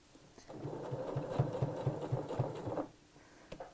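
A sewing machine stitches the lining seam of an evening bag in a steady, rapid run of needle strokes lasting a couple of seconds before stopping, close up.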